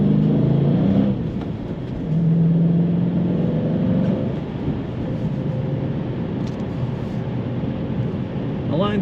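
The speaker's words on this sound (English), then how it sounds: "Nice rumble coming from that exhaust." A 2013 Dodge Challenger SRT8 accelerates with a deep, steady exhaust rumble that rises briefly and stays loud and close throughout.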